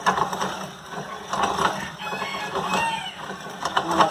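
Chickens cluck and murmur close by on a farm while feed is ground for them, their soft calls rising and falling over a steady mechanical hum.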